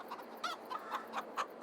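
Chickens clucking in a pen in the Farming Simulator video game: a steady run of short, bright clucks about every quarter second, fairly close and moderately quiet, with no talk over them.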